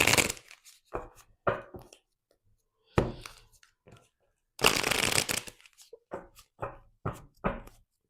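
A deck of oracle cards shuffled up close, crisp riffling bursts of varying length separated by short silences, with one long flurry in the middle and quicker shuffles after it.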